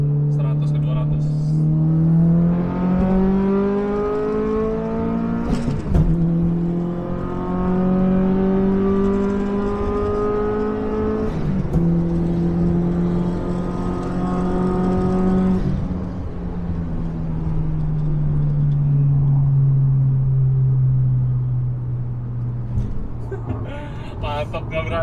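A stage 3 Subaru WRX STI with an EJ257 engine pulls hard from 100 to 200 km/h, engine note climbing steadily through each gear with sharp dips at the shifts, loud and continuous from inside the car, with brief talk at the end.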